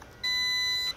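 A Holystone HS720G drone's remote controller sounds one clean, steady electronic beep lasting under a second as it powers on, clear and close with no talk.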